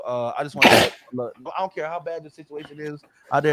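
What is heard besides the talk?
sneeze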